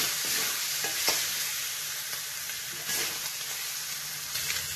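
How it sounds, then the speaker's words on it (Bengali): A fish head fries in a pan for cabbage moong dal, hissing with a strong, steady sizzle as it is stirred and scraped now and then, close up and with no talking. "মাছের মাথাটা দিয়ে ভালো করে কষে নেব"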